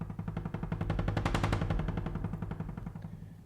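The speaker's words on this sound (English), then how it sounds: "And I've also got from Uncharted 88 these wood mallets." Dry wood mallets from the Uncharted 88 library, striking in a fast, even repeated pattern of hollow knocks that builds slightly in loudness then tapers off, close and without reverb.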